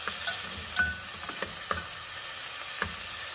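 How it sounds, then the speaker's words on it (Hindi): Tomatoes and green chilies stirred in a hot pot for pulao, giving a steady low sizzle with a few soft scrapes and clinks of the spoon, close and fairly quiet, with no talking. "अब हम डालेंगे टमाटर और हरी मिर्ची,"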